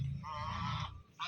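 Geese honk close by at a duck and goose seller's spot. One sustained nasal honk is followed by a short pause and the start of another, fairly quiet overall.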